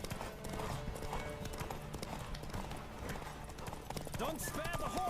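A horse in the video game The Witcher 3 gallops with rapid, continuous hoof clip-clops and a short whinny near the end. A player talks over the game sound.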